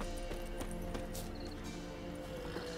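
Horses' hooves clip-clopping in The Witcher 3, a run of sharp, evenly spaced clops at close range over a steady game background with faint chimes.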